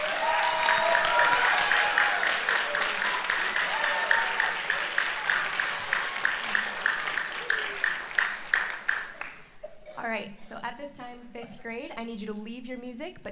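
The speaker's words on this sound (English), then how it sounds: "Can we give them another round of applause, please?" Audience applause for fifth grade orchestra students at a spring school orchestra concert, a steady wash of clapping that thins out toward the end as voices and chatter take over.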